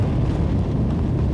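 Space Shuttle Columbia lifts off, heard from the cockpit as a dense, continuous low roar and rumble, loud and unbroken with no voices over it.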